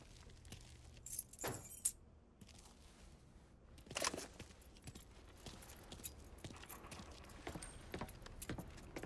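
Car keys jingle in the video game Mafia 3, a faint metallic rattling among soft game background noise and scattered clicks.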